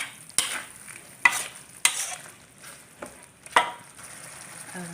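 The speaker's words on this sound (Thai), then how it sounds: "เคี่ยวให้เข้ากันก่อนนะคะ ถ้าน้ำแห้งสามารถเติมหางกะทิหรือว่า ใส่น้ำเปล่าลงไปได้เลยค่ะ" Thai curry with pork belly and coconut milk simmers in a pot while a spoon stirs it, making about five sharp scraping strokes over a soft bubbling bed with no talking.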